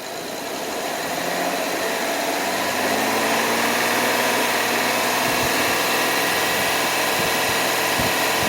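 A car engine held at about 2,500 RPM during an alternator charging test, a steady loud broadband roar that builds slightly over the first few seconds and then holds constant, with no one talking.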